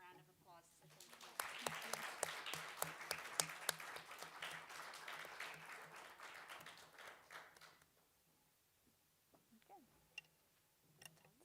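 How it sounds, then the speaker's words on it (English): Panel audience at a Women's Entrepreneurship Week event applauds the panelists, a dense burst of clapping that swells and runs for several seconds before fading out, followed by scattered faint sounds and quiet. "give them a round of applause as a thank you."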